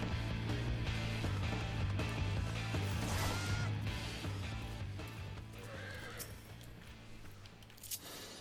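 A horse in the video game Final Fantasy XIV whinnies and clip-clops over steady loud game music, with a sharp knock near the end.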